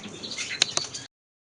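Greenfinches in breeding cages chirp briefly, with a few sharp close tweets over soft background chatter before the sound cuts off.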